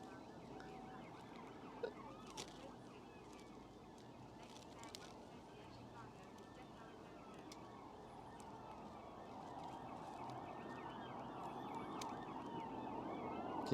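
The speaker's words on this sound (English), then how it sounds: "Can you hear some sirens?" Emergency vehicle sirens wail faintly outside a van, a distant rising and falling tone beneath steady background noise and a few soft knocks.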